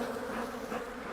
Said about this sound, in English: these bees are over the top aggressive